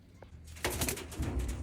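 Pigeons in a breeder's loft give a short burst of cooing, close and fairly loud after a brief quiet start.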